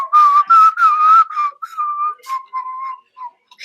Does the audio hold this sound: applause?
no